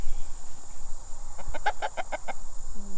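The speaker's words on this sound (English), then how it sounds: "Chicken, chicken, chicken." Chickens clucking in a backyard coop during a morning egg collection, a quick run of five or six pulsed clucks in the middle, fairly close, over steady outdoor background noise.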